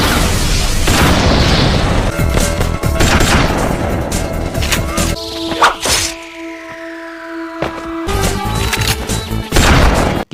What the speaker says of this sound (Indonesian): Tapi sayangnya pelurunya habis saat dia menembakkan basoka ke arah Denny.